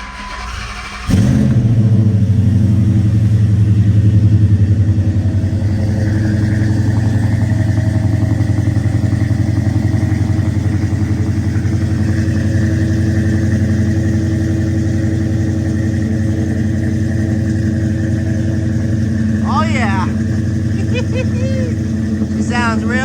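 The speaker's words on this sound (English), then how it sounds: "That FLOWMASTER exhaust. She's spitting." A car engine with a Flowmaster exhaust starts abruptly and settles into a loud, throaty idle with a deep rumbling, spitting exhaust, steady and close throughout.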